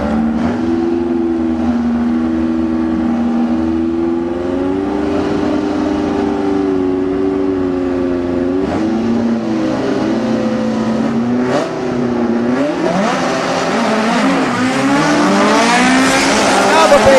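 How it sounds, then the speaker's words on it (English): Dragster and buggy launching side by side down a drag strip, a loud sustained engine roar whose pitch climbs and wavers, then rises higher as they pull away, with an announcer talking over it. "Wheel stand there for the buggy here Tower side, but the dragster's going to show the way."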